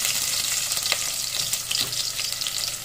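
Garlic and onion sauté in hot cooking oil for pork sinigang, a loud, bright, crackling sizzle with occasional stirring scrapes, close up and without talk.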